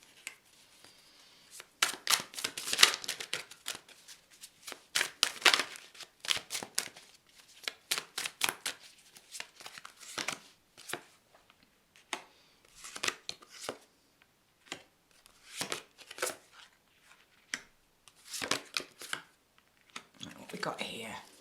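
Tarot cards shuffle and get drawn in a long run of quick papery riffles and soft slaps, bursts coming in uneven clusters close by with pauses between.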